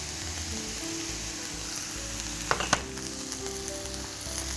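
Chopped courgette, deseeded pepper and quartered button mushrooms fry in a pan with a steady soft sizzle, broken by a couple of sharp clicks from stirring near the middle.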